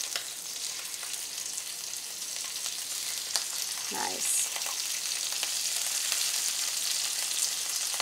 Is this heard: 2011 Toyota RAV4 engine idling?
no